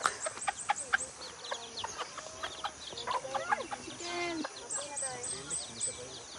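Chickens cluck and chatter nearby in a busy, irregular stream, with people talking over them now and then.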